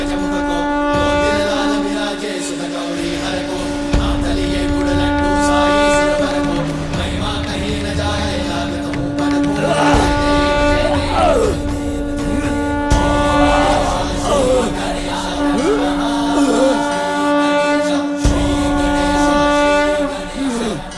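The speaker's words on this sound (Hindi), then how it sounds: "नारायण के शंख की ध्वनि है" A conch shell blown in a loud, sustained droning blast with rich harmonic tones holds steady throughout, swelling and wavering slightly under a noisy, reverberant background.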